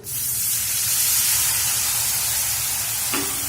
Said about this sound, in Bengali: তো এর মধ্যে আমি দিয়ে দেবো অল্প একটু জল